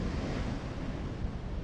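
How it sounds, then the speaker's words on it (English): Strong wind buffets the microphone over steady surf on Milford Beach on a cold, blustery day, a constant broadband roar with no pauses or voices. "It's really windy, pretty cold."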